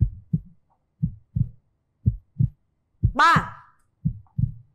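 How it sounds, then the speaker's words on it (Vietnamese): A heartbeat sound effect on a game show thumps in steady double beats, loud and close, while a voice counts briefly over it. "Kiểm tra một lần nữa nha, xem nhịp tim của mình có đập hay không."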